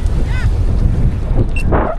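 A boat engine runs on open water with a steady broadband roar, along with wind buffeting and splashing waves. Brief tonal chirps and faint voices come through near the end.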